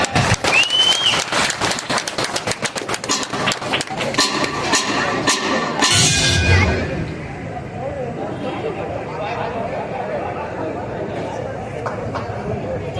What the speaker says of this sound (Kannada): ಹಾಗಾದ್ರೆ ಒಂದು ಜೋರಾದ ಚಪ್ಪಾಳೆ.